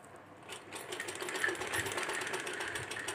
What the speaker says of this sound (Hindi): इसी तरह सिलाई लगा लूँगी दोनों बाजुओं को मैं